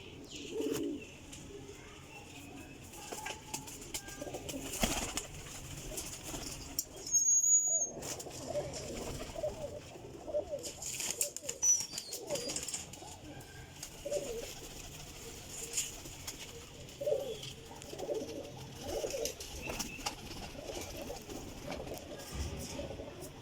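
High-quality flying pigeons coo softly and repeatedly through a long stretch, with occasional chirps and a brief quiet gap near the middle, against faint background noise.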